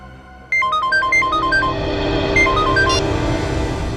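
A telephone ringtone starts abruptly and plays a bright, quick electronic melody of repeating beeping notes, then breaks off and resumes briefly over a low background hum, loud and near.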